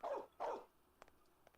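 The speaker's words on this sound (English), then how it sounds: "The dog's still coming." A dog in the Mafia video game lets out two quick barks close by, followed by faint clicks and quiet ambience.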